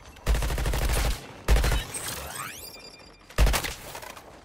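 Three loud, booming gunshots ring out in Suicide Squad: Kill the Justice League, each with a long echoing tail, spaced roughly a second apart and followed by a faint metallic ringing.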